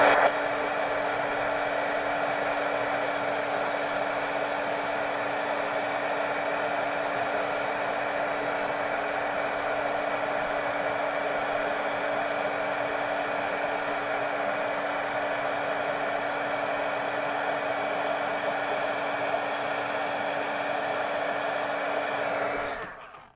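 A heat gun hums with a steady, loud blowing hiss for a long continuous stretch while melting embossing powder on a stencil, held in place without pause before switching off abruptly at the end.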